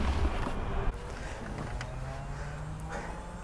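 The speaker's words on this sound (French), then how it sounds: "c'est mon pompe à eau qui est en route" A 12V water pump runs inside a Dacia Duster camper conversion, making a faint, steady low hum with light mechanical noise and no speech.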